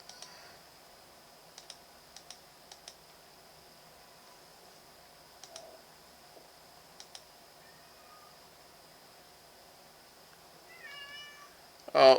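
A cat meows a few times close to the microphone near the end, after a long, quiet stretch of faint clicking and a steady electronic whine.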